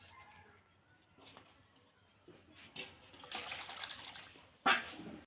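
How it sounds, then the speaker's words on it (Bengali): Small river fish are rinsed in water under a tap or in a bowl, with quiet trickling and splashing that builds gradually. The clip ends in a sharper splash, and a faint voice is heard in the background. "মাছটি ভালোভাবে ধুয়ে আনবো"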